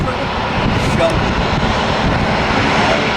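An Airbus A320 jet airliner on a delivery flight roars past near San Diego, a loud, steady broadband engine rumble filling the whole stretch without letup.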